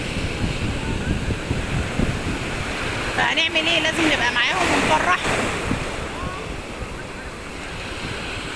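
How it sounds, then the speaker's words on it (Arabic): High sea waves break and wash onto a beach in a continuous loud roar with wind buffeting the microphone, while someone talks over the surf. "بس هو بس اليومين دول كده الموجه من امبارح والنهارده، وخصوصا النهارده عاليه كمان عن امبارح كمان"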